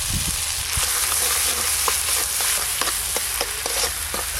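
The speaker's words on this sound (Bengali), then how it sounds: "সর্ষে দিয়ে তো আর বেশিক্ষণ নাড়তে হয় না, 2-1 নেড়ে নিয়েছি" Mustard paste, turmeric and salt frying in fish oil with radhuni spice, a continuous close sizzle broken by scattered scrapes and taps of a spatula stirring in the pan.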